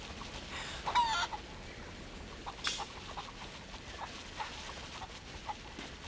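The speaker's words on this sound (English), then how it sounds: "So I picked up a chicken." Chickens cluck on a farm in a video game, a few scattered faint clucks and squawks over a steady noisy background.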